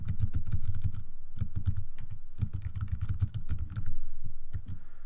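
Fingers type quickly on a computer keyboard, a close clatter of clicks in rapid bursts with brief pauses, with no talking over it.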